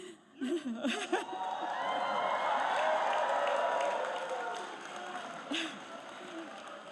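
Graduates at a BCIT convocation ceremony cheer and applaud their supporters in a large hall, a sustained swell of clapping and shouts rising after brief speech, peaking mid-way and fading, with a short voice near the end.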